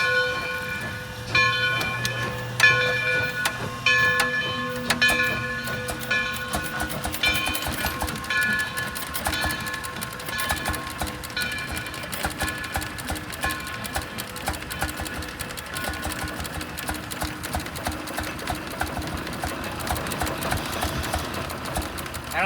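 Antique Bessemer generator set engine running at a show, a steady loud mechanical chugging with rapid repetitive beats, continuous throughout with a busy outdoor background.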